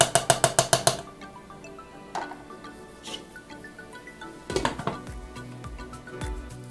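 A pot lid set on a pan of simmering pasta-bake sauce: a quick run of rapid metallic rattles, then scattered clinks and knocks of cookware nearby.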